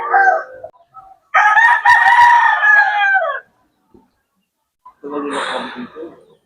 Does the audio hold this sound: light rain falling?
no